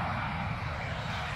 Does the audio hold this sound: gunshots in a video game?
no